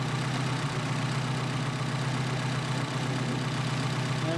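A Mercedes 190SL engine with Solex 44PHH carburetors idles in a steady, even low rumble, close and continuous with no talk.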